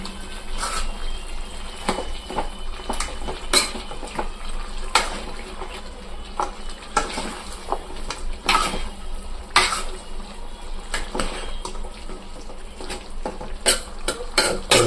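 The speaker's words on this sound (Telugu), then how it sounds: "మనం వేసుకున్న తర్వాత ఇట్లా కలుపుకోవాలి" A spoon stirring turmeric into chicken curry in a pan, soft scraping and clinks recurring irregularly over a low sizzle, close and fairly quiet.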